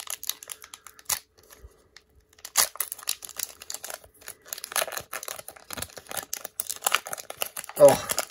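An Upper Deck Artifacts 2021-22 hockey card pack is torn open and handled, with crinkling wrapper and scattered sharp tearing sounds. A person talks quietly throughout.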